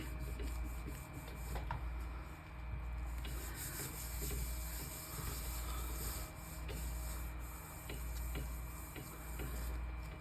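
A brush or sponge rubs paint through a fine-holed stencil in steady, faint scrubbing strokes, soft repetitive friction alone at close range.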